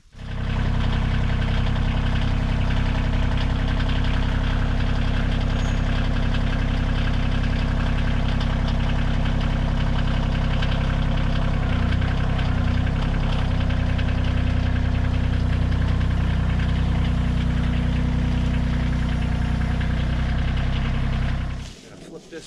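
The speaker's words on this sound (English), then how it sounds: "it's heavy, so I'm using a tractor." A heavy diesel tractor engine idles loudly and steadily while moving red oak log pieces, a deep continuous rumble that cuts off abruptly near the end.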